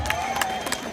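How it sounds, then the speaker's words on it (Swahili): A gathered audience at a public meeting claps and cheers, scattered applause and crowd noise filling a brief moment with a voice over it. "Tuwapigie makofi mazuri."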